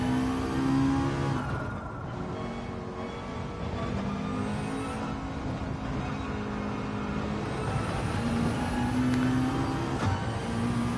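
A race car engine droning and shifting pitch as it laps Road Atlanta in Gran Turismo 7, a steady loud engine note with gear changes and rising revs, no talking.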